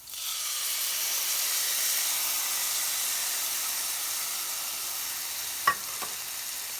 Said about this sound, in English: now let's add a cup of beef broth, y'all.